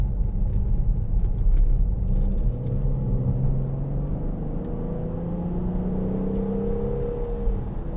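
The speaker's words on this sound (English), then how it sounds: "I'll give it some gas here." A 2010 Audi Q7 with the 6.0 TDI V12 diesel and Tiptronic gearbox accelerating, a steady deep engine rumble with rising tones as it gathers speed, loud and close throughout with no talking.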